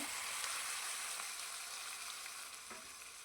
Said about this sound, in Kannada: ಈಗ ಇದಕ್ಕೆ ಬೇಯಿಸಿಟ್ಕೊಂಡಂಥ ಮಟನ್ ಇದೆಯಲ್ಲ ಅದನ್ನು ಇಲ್ಲಿ ನಾನು ಹಾಕ್ಕೊಳ್ತಾ ಇದ್ದೀನಿ